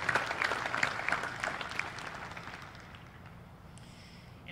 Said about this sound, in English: Let's have one more round of applause for the Don Bosco Award winners